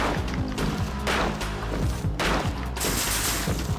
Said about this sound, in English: Oh, that's a stun gun.